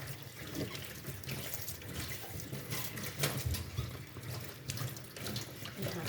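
Running tap water splashes steadily into a kitchen sink as a watermelon is washed under the stream, a continuous close hiss and gurgle with no talking.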